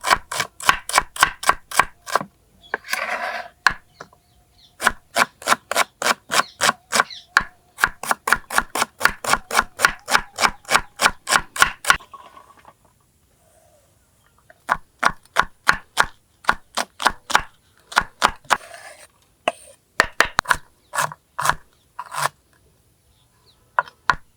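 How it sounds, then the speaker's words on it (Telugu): Onions and green chillies are chopped finely with a knife on a board, giving rapid, sharp, evenly paced taps in long runs broken by brief pauses, loud and close with no speech. "ముందుగా ఉల్లిపాయలు పచ్చిమిరపకాయలు సన్నగా కోసుకుంటానండి"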